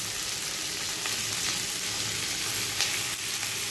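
Eggplant frying in a pan, a steady dense sizzle with small crackles and pops throughout, close and continuous with no talk.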